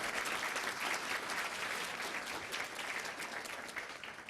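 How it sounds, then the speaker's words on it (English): Audience applause fills a hall of fame ceremony, a steady, dense round of clapping from a crowd that holds evenly throughout without speech. "You could give a round of applause for that."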